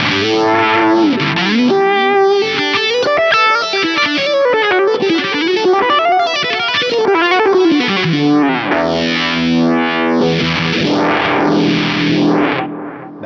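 Electric guitar run through a ROSS fuzz pedal into a phaser, a thick distorted tone with sweeping whooshing phase swirls over sustained notes and slides, loud and continuous.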